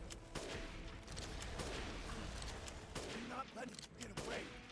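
Gunfire in Resident Evil Village during the Miranda fight, several sharp shots in quick succession over a busy game soundscape, with a voice talking underneath.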